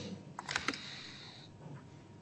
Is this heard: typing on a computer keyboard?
yes